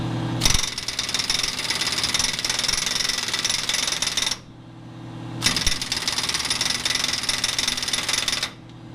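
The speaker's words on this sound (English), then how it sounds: "First, we're going to see if the impact will get it on its own." An air impact wrench hammers at a stubborn transfer case nut on a semi truck, two long, loud rattling bursts of about four and three seconds separated by a short pause, close and harsh, with no talking.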